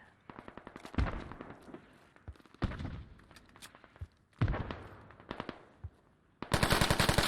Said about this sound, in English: Oh, nice shooting from ETK